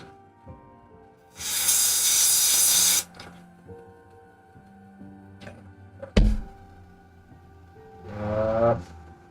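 An airbrush spraying ink in two bursts of loud, close, airy hissing, one lasting about two seconds and a shorter one near the end, with a sharp thunk and quiet handling noises between them.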